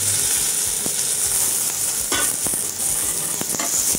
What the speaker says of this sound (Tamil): தாளிப்பு நான் நல்லா ஃப்ரை பண்ணிட்டேன்.